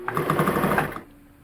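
Sewing machine stitching around a blouse sleeve: a steady, close mechanical whirr with a fast stitching pulse for about one second, then it stops and leaves a quiet motor hum.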